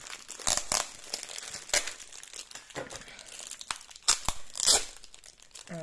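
An AliExpress parcel sealed with dirty tape is unwrapped up close, with irregular bursts of crinkling plastic and sharp tearing of tape separated by brief quieter pauses.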